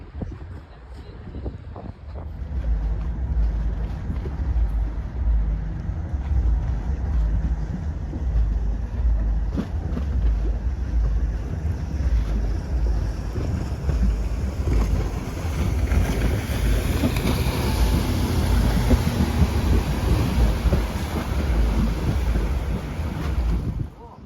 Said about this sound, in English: That's one of the ferries going to Sweden.